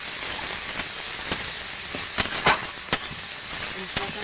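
Pangas fish masala with ginger paste frying in a pan, a continuous hiss and sizzle with a few sharp crackles and spatula knocks near the middle, close and fairly steady, with no voices.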